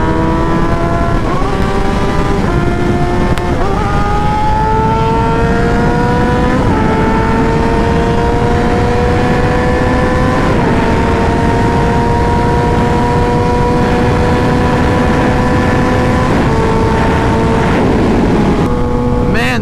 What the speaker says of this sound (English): God, this muffler sounds so good.